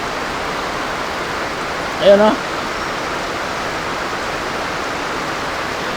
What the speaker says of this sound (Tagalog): Siguro narinig nyo yung kalaskas ng buhos ng ulan